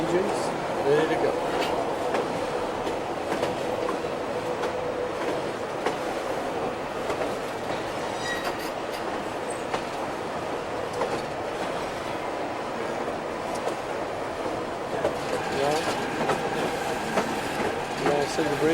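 A train rolls steadily along rails in Alaska, a continuous rumbling with clickety-clack wheel rhythm and occasional faint squeals, sustained and fairly close throughout, with voices talking over it.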